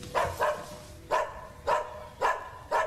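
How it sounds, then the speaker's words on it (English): A dog barks in a steady series of about six sharp, fairly close barks in pairs and singles, heard alone with no talk. "There's a dog barking."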